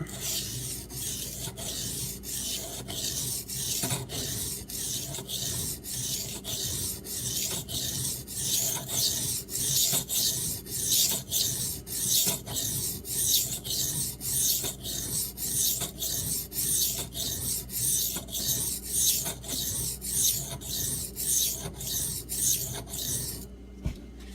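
A Rat 1 knife with a D2 steel blade is drawn across a sharpening stone to raise a burr. Dozens of quick, even rasping strokes repeat in a steady rhythm, close and alone.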